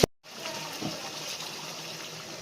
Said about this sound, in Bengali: এই যে দিয়ে দিলাম অল্প করে জল।